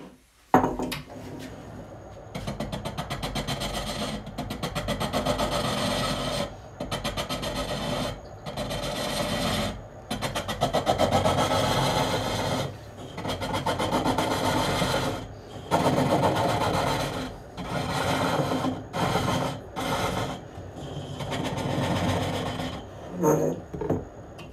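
A wooden cup turned on a Japanese-style lathe with hook tools, giving long rasping, scraping cuts in repeated strokes with short pauses between them, close and steady.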